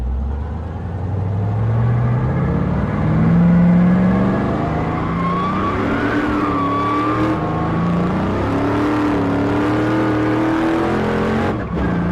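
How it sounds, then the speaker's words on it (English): Race car accelerating down a freshly graded salt flats course with extra boost, a loud close engine climbing steadily through the gears as it pulls away over about twelve seconds, with no talking. "Car 462 now underway on course 1."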